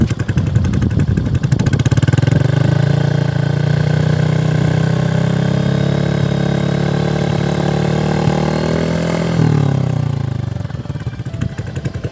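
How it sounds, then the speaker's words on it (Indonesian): A Honda Beat Deluxe scooter fitted with an aftermarket MDM muffler revs hard and holds a loud, steady drone for about nine seconds, then drops back toward idle, close to the exhaust. "Coba kita geber-geber lah ya."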